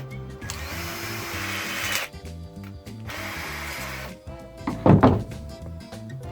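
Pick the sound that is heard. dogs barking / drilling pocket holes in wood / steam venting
drilling pocket holes in wood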